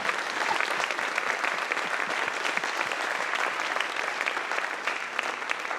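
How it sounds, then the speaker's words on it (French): Village theatre audience applauding a stage-direction coach after an amateur play, a loud, dense, steady round of many hands clapping, sustained throughout with no talk over it. "je voudrais qu'on l'applaudisse"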